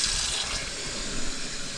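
Water rushes hard into a kitchen sink drain fitted with a garbage disposal, a loud, continuous broadband gush lasting under two seconds, close by and with no talk.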